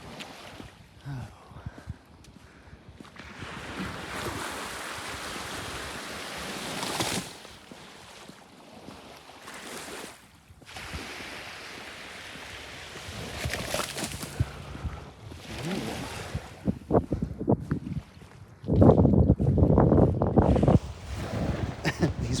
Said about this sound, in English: These waves are so puny today.